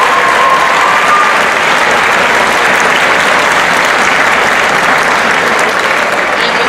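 A concert audience applauds graduating seniors in a sustained, loud, dense wash of clapping that holds steady without pause from start to finish.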